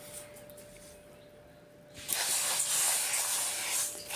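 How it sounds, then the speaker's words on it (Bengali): Dry rice grains tossed in a hot, dry pan for Mymensingh dudhpuli pitha give a loud, steady hiss and rustle that starts suddenly partway through and carries on alone, no voices. "চাউল ভেজে নিচ্ছি"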